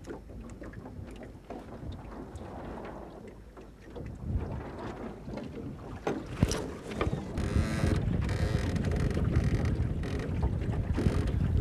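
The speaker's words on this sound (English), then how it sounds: "Now we're sailing a Whitehall Spirit 14 with a jib." A Whitehall Spirit 14 sailboat under main and jib moves through water with steady splashing and hull wash, buffeted by wind noise on the microphone, growing louder and busier in the second half.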